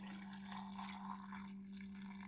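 Water is poured into a jar of tomatoes being pickled, a quiet continuous trickle and splash over a steady low electrical hum.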